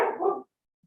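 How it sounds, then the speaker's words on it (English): A single short dog bark or yelp, close and fairly loud, comes in a quiet room during a city council meeting held remotely from home, then cuts off into silence. "if you hear some squeaking and growling and barking, my dog decided he needs attention right now"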